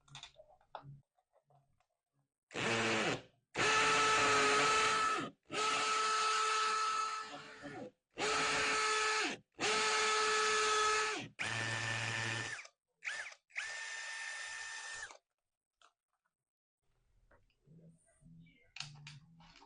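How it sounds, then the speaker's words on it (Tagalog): A power drill bores into a wall at home in several loud, close bursts of a few seconds each, separated by short pauses, followed by quieter clicks and handling noise. "So ngayon po, try natin mag-drill at papakita ko po sa inyo kung gaano po ito ka-effective"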